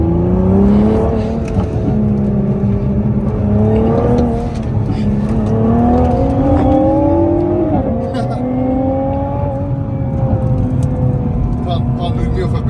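A 2021 Nissan GTR R35 accelerates with a rising mechanical whine over a loud engine drone, pitch climbing through several gears from inside the cabin, while someone talks over it.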